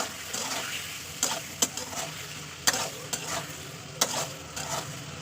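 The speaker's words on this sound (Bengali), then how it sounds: "আদা রসুনটা দেওয়ার পর ভালো কষিয়ে নেবো তেলের উপরে" Potatoes stir-fried with ginger-garlic paste in oil, a continuous sizzle broken by repeated sharp spoon scrapes and knocks against the pan at an uneven rhythm.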